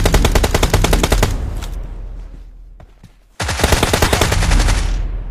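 Rapid automatic gunfire in a battle royale video game, loud close bursts of evenly spaced shots, a quieter stretch with scattered single reports, then another long sustained burst.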